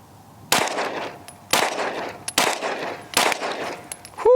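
Four loud, close pistol shots spaced roughly a second apart from an all-metal Smith & Wesson M&P Performance Center carry comp firing SuperVel 115 ammunition at cardboard 10 yards away, each sharp crack trailing into a short echo.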